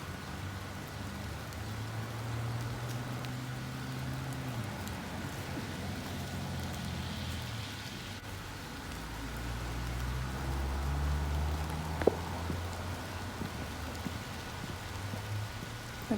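Steady rain falls over a garden, a dense even patter that holds at the same level throughout, with a few brief louder drops and a low rumble underneath, near and continuous with no talk.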